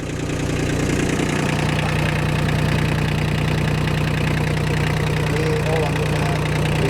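A tractor engine idles loudly and evenly throughout, with a constant low rumble and no change in pace.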